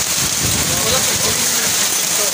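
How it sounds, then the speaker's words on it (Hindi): Heavy storm rain pours down in a dense, steady hiss near a house, with a voice talking briefly over the downpour. "तूफानी बारिश एकदम से"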